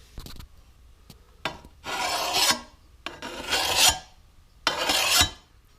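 A hand file rasps across a lawnmower blade in three long, loud, scraping strokes with short pauses between, close and distinct.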